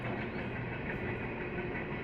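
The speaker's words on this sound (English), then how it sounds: "You can hear the train behind us," A train passes behind an abandoned motel in Wells, Nevada, its steady rumbling roar and rolling wheel noise filling the air continuously at a moderate distance, with no voices.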